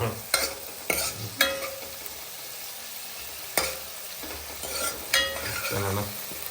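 Green garlic and green onion sautéing in a pan, a steady soft sizzle broken by several sharp scrapes and clacks of a spoon stirring against the metal, with no talk.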